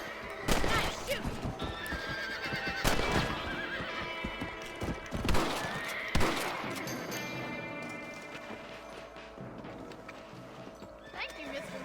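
Horse from the Western game Red Dead Redemption whinnying loudly several times over a running clip-clop of hooves, with sharp bursts and a busy game backdrop; voices are heard in the mix.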